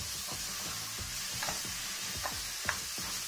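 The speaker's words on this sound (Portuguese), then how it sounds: "Aí eu vou refogar." Unseasoned ground beef sautéing in a pan for bolognese, a steady close sizzle with occasional scrapes and taps as the meat is stirred.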